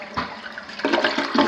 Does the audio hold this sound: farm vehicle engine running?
no